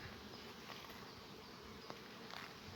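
Honeybees buzzing around an open beehive during a spring hive check, a dense, steady droning hum of many insects close by, with no talking.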